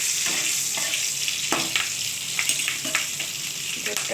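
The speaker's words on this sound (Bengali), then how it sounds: "এরপর দিলাম কাঁচা পাতা, শুকনো লঙ্কাটা একটু ভালো করে ভেজে নেব" Dried red chillies and five-spice sizzle in hot oil in a pan, a close, crackling hiss broken by sharp pops and the scrape of stirring.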